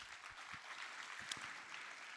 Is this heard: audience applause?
yes